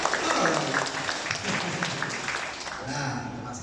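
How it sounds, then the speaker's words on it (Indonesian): An audience at a startup innovation event in Makassar applauds, with dense, sustained clapping heard throughout while a voice talks over it. "Oke, tepuk tangan dong untuk NextDev sekali lagi."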